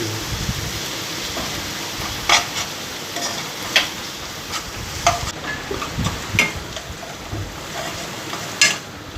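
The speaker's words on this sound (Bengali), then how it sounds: "যতক্ষণ না ভাজা হচ্ছে ততক্ষণ ভালো করে নাড়িয়ে যেতে হবে।" Chopped onions for a chicken jhol fry in a pan with a steady sizzle, broken by repeated scraping clatters of stirring, close and clear with no voices.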